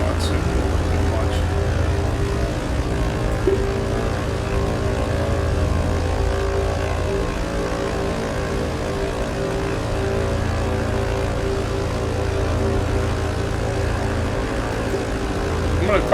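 A Britten Norman BN-2 Islander's piston engines and propellers drone steadily in Microsoft Flight Simulator over New Orleans, a loud continuous hum with a constant low throb that holds evenly throughout.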